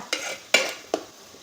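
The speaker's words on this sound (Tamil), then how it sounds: "தக்காளி சேர்த்துட்டு நல்லா கிண்டி கொடுத்துக்கோங்க" Chopped tomatoes cooking in a pan for brinjal kara kuzhambu are stirred with a utensil, three quick scraping strokes over a soft sizzle, close and clear.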